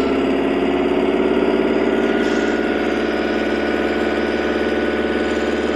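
A Toyota Hi-ace engine runs steadily at raised revs, a close, continuous mechanical drone with a throbbing low hum and no speech over it.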